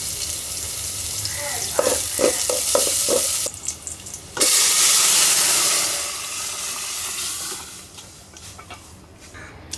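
Panch phoron spices frying in a pan in a home kitchen, a sizzle that surges loudly partway through and fades, with clinks of stirring and a background of running water, a voice faint at times.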